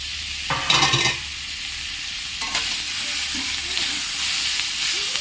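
Boiled broccoli, capsicum, carrot and peas being stirred in a frying pan, with scraping strokes over a continuous soft sizzle, close and fairly loud.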